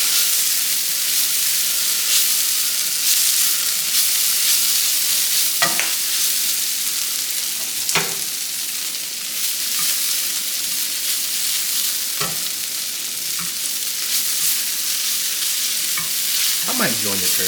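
Hash browns sizzle steadily in a hot pan, a continuous loud frying hiss with occasional scrapes and stirring clicks, close up and with no talk.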